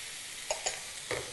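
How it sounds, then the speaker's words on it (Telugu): Curry leaves and chopped tomato dropped into hot oil for a mutton and drumstick curry. A low, quiet sizzle with a few soft clicks and a small crackle burst, close, no voices. "ఇప్పుడు కరివేపాకు వేసుకోవాలి. అలాగే చిన్నగా కట్ చేసి పెట్టుకున్న టమాటా ముక్కలు కూడా వేసుకోవాలి."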